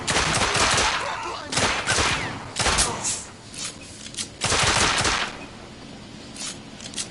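Gunfire in The Order: 1886 crashes out in loud, close bursts of rapid shots. Short gaps separate the volleys, and a heavy thud sounds among them.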